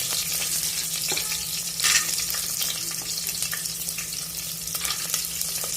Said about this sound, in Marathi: त्याच्यानंतर शेंगदाणे त्याच्यात ॲड करा